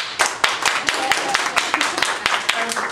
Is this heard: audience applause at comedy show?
yes